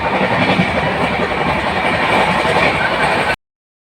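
The interior of a moving passenger train on the way to Kamakhya, a loud, close, steady rumble with rattling carriages and clickety-clack, which cuts off abruptly near the end.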